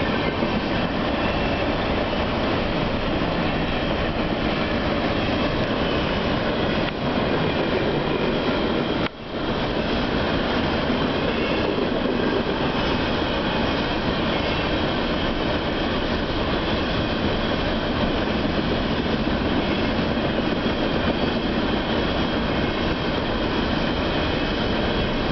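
Northbound CSX coal train bound for the Orlando Stanton Energy plant rolls past steadily, a loud continuous rumble of rail cars with clickety-clack wheel noise and brief squeals, no voices.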